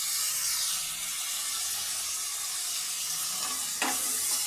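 Small-cut potatoes fry in a pan with ginger garlic paste and turmeric, a loud continuous close sizzle with a brief scrape of stirring near the end.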